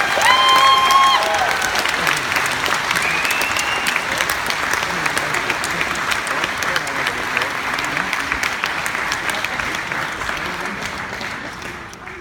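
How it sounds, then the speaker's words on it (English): Audience at a comic convention panel at MCM Scotland 2016 bursts into loud, sustained applause with some cheering, the clapping gradually thinning out toward the end while a voice speaks over it. "Gentlemen, please join me in giving a massive round of applause."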